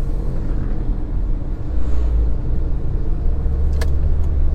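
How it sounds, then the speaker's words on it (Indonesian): Trucks and buses roll past on a busy stretch of the Pantura coastal road near Besuki, Paiton and Kraksaan, Probolinggo, a loud steady rumble of heavy engines and tyres, close by, with no talking. "Kebanyakan truk-truk kayak gini sama bis."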